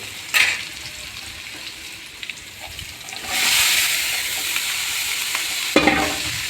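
Carrot, beans and cabbage stir-frying in a hot pan, a steady loud sizzle with scraping stirs and a surge of hissing midway, no talk.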